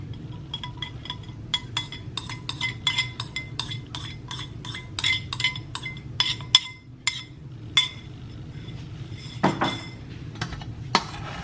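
Metal utensils clink against a bowl while garden-harvested ingredients are mixed into a salad, producing a brisk, irregular run of close, bright ticks and taps with a few louder knocks and no talking.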